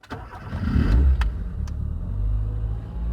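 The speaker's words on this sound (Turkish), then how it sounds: "Şu an aracımızı çalıştırdık arkadaşlar." A Tofaş Doğan SLX 1.6 injection car engine cranks and catches, then settles into a steady close, low idle, with no voices.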